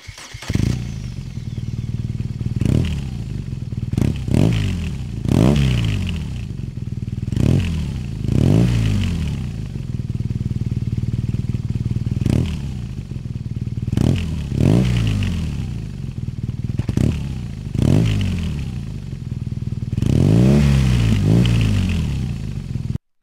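A BMW R nineT motorcycle engine and exhaust are revved again and again, each sharp blip rising and falling over a rumbling idle, close and loud throughout.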